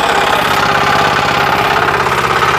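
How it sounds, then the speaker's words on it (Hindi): Kama diesel engine on a power weeder running hard in a field, a loud, continuous, rapid knocking chug with a rough throbbing beat that cuts off at the end. "इसमें डीजल इंजन है ना भैया"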